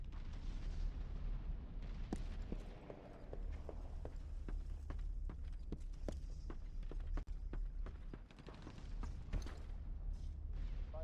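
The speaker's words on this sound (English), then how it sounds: "Over here, hearing footsteps." Footsteps in the shooter game Resistance: Fall of Man, a run of sharp, regular steps crunching over a low rumbling battle ambience, with occasional louder impacts mixed in.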